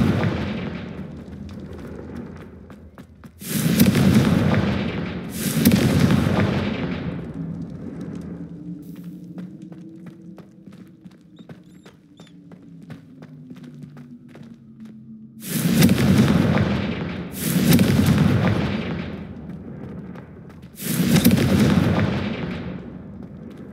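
Confringo fire spell explosions in Hogwarts Legacy come as six loud, booming blasts in two groups of three. Between the groups a low droning hum and faint ticking fill the gap.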